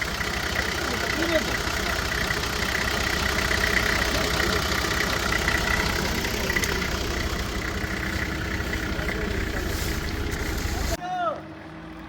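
A heavy turbocharged tractor engine idles with a steady low rumble for most of the clip, then cuts off near the end, leaving quieter background.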